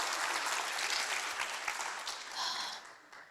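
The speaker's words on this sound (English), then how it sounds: "let's clap for Susie" An audience at a women's retreat applauds in a dense, sustained burst of clapping that fades slightly toward the end, with a few cheers mixed in.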